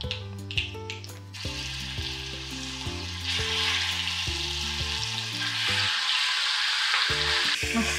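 Mustard seeds and a ginger-garlic-green chili paste hit hot oil in a tempering pan, crackling and sizzling steadily and growing louder and denser partway through, with light clinks and music in the background.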